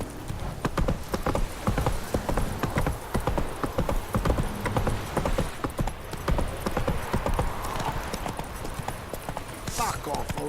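Roach, the horse in The Witcher 3, gallops with rapid, close hoofbeats that keep a steady rhythm for about ten seconds, and a voice talks over them.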